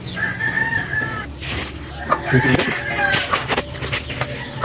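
A friendly chicken wanders close by a wooden toy carving session, clucking and letting out a crow amid workshop clatter, with a brief spoken word over the noise.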